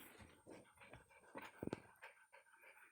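Dogs arrive nearby with quick, faint panting and snuffling, a few soft whimpers, and a brief burst of close sniffing in the middle.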